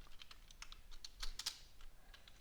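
Quiet, quick keystrokes on a computer keyboard as Python code is typed, an irregular run of light clicks with short pauses and a few louder taps, close and alone.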